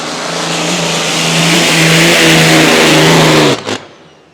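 Hydroplane race boat Aussie Connection at E C Griffith Cup practice, its big engine roaring loud and steady with a rising pitch before the throttle is cut abruptly near the end, leaving a brief sputter.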